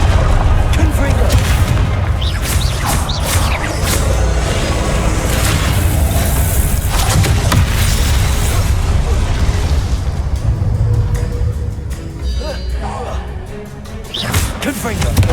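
Repeated booming blasts from Confringo fire spells in a Hogwarts Legacy duel, loud and continuous amid crashes and other combat effects, with voices speaking over the fight.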